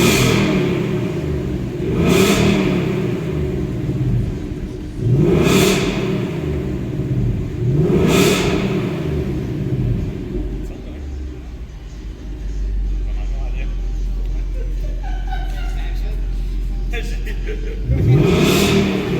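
A 2018 Ford Mustang GT with an H pipe exhaust revs up three times in quick succession and then settles into a deep, loud, rumbling idle, followed by one more rev near the end.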